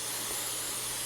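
Brake parts cleaner sprayed onto an HDPE garden tractor gas tank, a steady close hiss of aerosol spray that runs unbroken for about a second.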